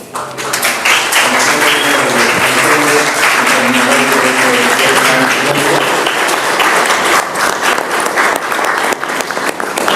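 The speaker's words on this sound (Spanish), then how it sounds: "pido por favor un fuerte aplauso" Loud, sustained applause from an audience filling the room at a dictionary presentation, dense clapping that continues steadily throughout.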